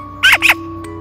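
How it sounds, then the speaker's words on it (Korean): Two quick harsh rasping calls from magpie chicks begging for food, close and fairly loud, then a faint short third sound over a steady background hum. "빨리 밥을 달라고 조르는 다른 새끼들의 소리 잘 들리시죠?"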